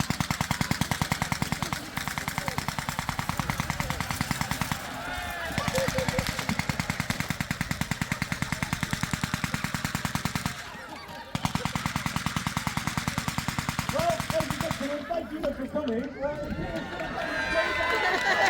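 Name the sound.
Vickers machine gun firing at medieval pageant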